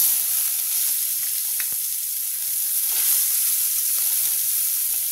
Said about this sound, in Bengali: এবার আমি এর মধ্যে দেবো পেঁয়াজ কুচিটা ফোড়ন দিয়ে দেবো আমি